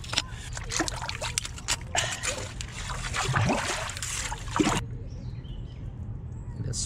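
Water swirls and trickles in a rocky Pennsylvania creek, a soft close burbling with small splashes under faint outdoor ambience, with a brief spoken word partway through.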